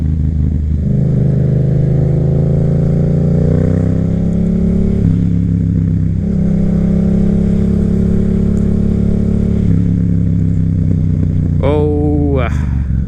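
A Yamaha FZ07 motorcycle cruising on the highway, its engine droning loud and steady under constant wind rush, with a couple of shifts in pitch as the revs rise, dip and then climb again.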